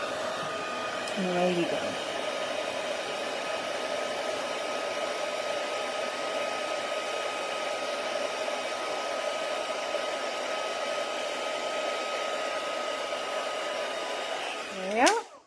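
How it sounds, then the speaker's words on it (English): A crafting heat gun blows hot air with a steady, even whoosh and hum, close and constant for the whole stretch before it clicks off at the end. A voice speaks briefly near the start. "just warm my heat gun up,"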